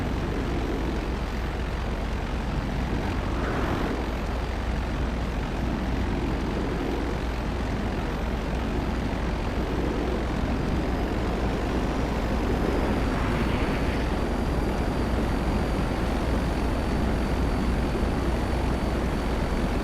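A plane in GTA Online, with a broken cockpit after a rough takeoff, gives a steady, loud engine drone that holds unbroken throughout, with slight swells in the roar.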